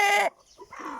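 An Aseel rooster, young and sturdy, lets out a single loud, close cluck or call lasting a fraction of a second, followed by quieter rustling and faint background noise.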